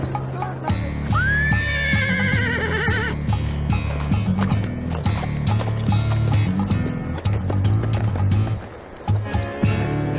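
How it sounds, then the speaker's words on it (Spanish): A draft horse bred for farm work gives a clear rising whinny over steady clip-clopping hooves and a low rhythmic rumble that continue for the whole ten seconds. "El caballo."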